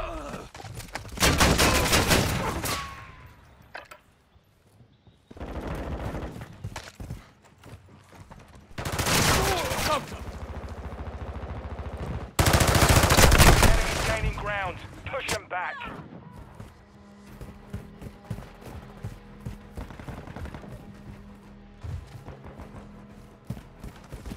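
Gunfire in the video game Call of Duty: Modern Warfare II: repeated bursts of automatic rifle fire and heavier blasts in loud clusters, with gaps between them, and spoken callouts from characters mixed in.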